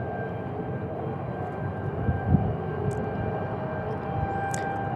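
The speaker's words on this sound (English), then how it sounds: "We got F-16s in the house. They're rolling." Air National Guard F-16 jets rolling at Tucson International Airport, a steady broad engine roar with a continuous whine, constant and moderately loud throughout with no talk.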